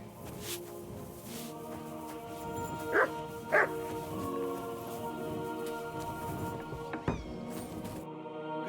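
Dog barks in Kingdom Come Deliverance II, heard as two short sharp yips standing out over a steady bed of game music and ambience, followed by a brief thud-like knock near the end.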